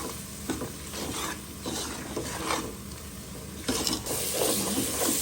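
A spice paste of ginger-garlic, chili, turmeric, coriander and cumin fries in a pan for tripe bhuna, with close, repeated scraping stirs over a continuous sizzle.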